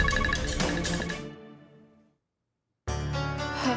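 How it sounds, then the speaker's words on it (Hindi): A mobile phone ringtone plays loud and close as a bright melodic tune, fades away into a moment of silence, then starts ringing again. "कुहू, मैं तुझे कब से फोन कर रही हूँ, तू फोन उठा क्यों नहीं रही है?"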